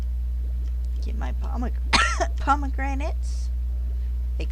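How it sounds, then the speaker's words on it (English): A single cough goes straight into a close microphone during a Slime Rancher 2 game session, breaking up soft, steady talk over a low electrical hum. "I did not mean to just cough up a hairball into my microphone."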